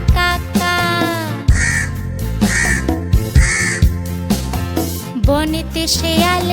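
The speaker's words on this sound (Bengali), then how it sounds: "ডালে বসে কাক ডাকে কাক কাক কাক।" A cartoon crow caws in a Bengali kids' rhyme, with repeated bright caw calls over a busy musical backing.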